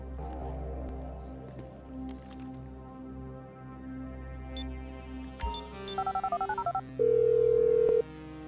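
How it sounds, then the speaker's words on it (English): A rapid series of phone keypad tones being dialed in a video game over a low background hum, followed by a steady ringing tone. "I'm making the call."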